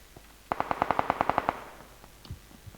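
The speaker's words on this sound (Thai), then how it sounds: "มีคนยิงเก็บเสียง เหมือนเก็บเสียง AR อยู่แถวๆนี้" Suppressed AR rifle fire in a video game comes as a fast burst of about ten evenly spaced muffled shots, fairly close, followed by a few faint scattered sounds.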